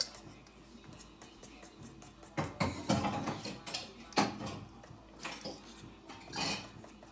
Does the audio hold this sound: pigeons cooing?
no